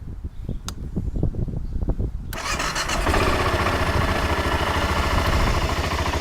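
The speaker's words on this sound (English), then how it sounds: "press the start button and hold it for 2 seconds after it turns over" A 2005 BMW F650CS motorcycle cranks with a rapid rhythmic starter whir for a couple of seconds, then catches and settles into a loud, steady, close idle.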